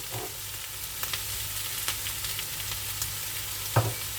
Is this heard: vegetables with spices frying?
yes